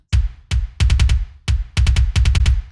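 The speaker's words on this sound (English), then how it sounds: "So the kick sounds like this." Punchy kick drum hits from a metal track in a syncopated pattern, deep and boomy with a sharp click on each attack, repeating twice over a couple of seconds.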